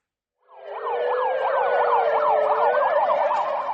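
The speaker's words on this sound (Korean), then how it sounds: "불이 났다는 신고를 받고 소방차가 긴급 출동합니다" A fire engine siren wails during an emergency dispatch to a reported fire, rising in quickly and then warbling in a rapid, repeating up-and-down pattern, loud and close with no voices over it.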